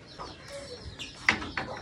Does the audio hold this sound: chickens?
yes